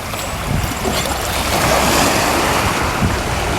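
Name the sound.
ocean waves at a harbor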